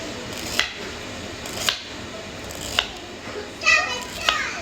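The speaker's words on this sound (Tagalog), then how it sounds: "Naglalaro ang mga bata." Children play somewhere in the background of a home kitchen while chicken tinola is prepared, their voices faint and distant, with sharp knife or cutting clicks at intervals close by.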